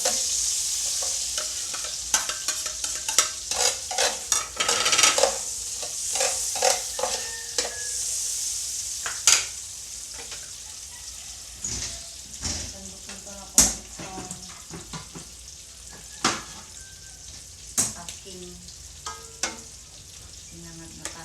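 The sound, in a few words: garlic frying and stirred in butter for fried rice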